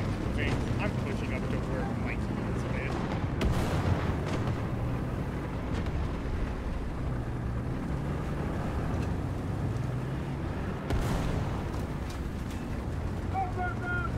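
Gunfire and artillery rumble around a tank in the War Thunder video game during a battle against a B1 bis, a dense continuous roar with sharper blasts near 3.5 and 11 seconds, under a speaking voice.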